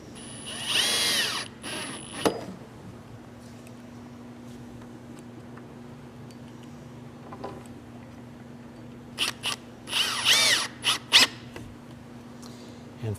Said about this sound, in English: Once you put the screws in there, it will straighten up for you.